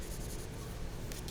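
Pencil shading on paper while drawing a sphere, a soft, continuous scratchy rasp of graphite under medium pressure, heard close and quiet with no talking.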